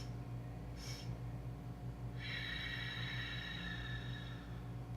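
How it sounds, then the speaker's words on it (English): A yoga breathwork demonstration: a brief nasal sniff, then a longer, airy breath through the nose, both soft and close against a quiet background hum. "Little sniffs, little sips of air, 3 parts to inhale, 1 part to exhale."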